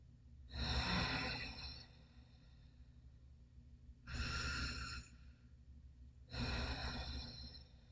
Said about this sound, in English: So let's take some deep breaths in.